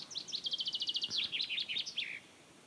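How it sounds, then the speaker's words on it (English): Blue tit calling from a tree on a Latvian homestead, a rapid run of bright repeated chirps followed by a few looser twittering notes, clear against quiet outdoor background. "I think it's a blue tit."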